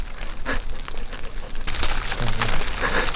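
Hail pelting a hunting blind outdoors during a spring turkey hunt, a steady dense patter of small hard strikes with occasional louder knocks, continuous and fairly close throughout with no talking.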